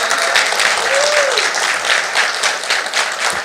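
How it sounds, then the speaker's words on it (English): An audience claps in a warm, dense round of applause that fills the room and stays steady throughout, with a faint voice briefly audible in the mix. "Can I have a round of applause, please?"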